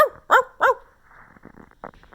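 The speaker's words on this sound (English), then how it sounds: "The next morning, Yoshio woke to his neighbor's dog barking and barking" A neighbour's dog barks three times in quick, loud, close succession, followed by a few softer, scattered yips and whimpers.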